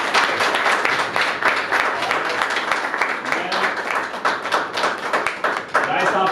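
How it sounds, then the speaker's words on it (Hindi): Audience at a theatre festival applauding a play's director as he is called onto the stage: dense, continuous clapping that stays loud for the whole stretch, with crowd voices murmuring underneath. "एक बार जोरदार ताली"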